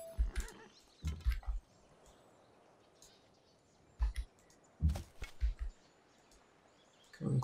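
Horse sounds in a Civilization strategy video game: short bursts of hooves and snorting, several separate clusters spaced over quiet ambient background with faint birdlike chirps, fairly soft.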